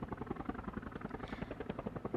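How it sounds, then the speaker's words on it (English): Small plane landing on a tiny helicopter pad, heard as a steady droning propeller engine with a fast, regular pulsing throb, close and continuous throughout. "For the first time ever, a plane landed on a helicopter pad."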